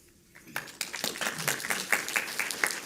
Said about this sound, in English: Definitely round of applause.